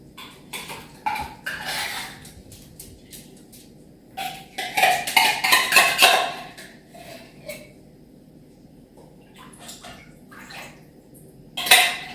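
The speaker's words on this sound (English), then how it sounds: "I'm going to go ahead and put this cream of chicken in here." Canned cream of chicken soup glugs and splatters into a metal pot, with scraping and clinking of a utensil against the rim, close by and intermittent.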